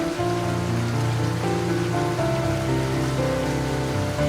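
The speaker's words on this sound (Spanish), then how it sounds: "La lluvia continuaba." Torrential rain pours down in a storm, a dense, steady roar of water hitting surfaces that stays loud and unbroken throughout, with no voices.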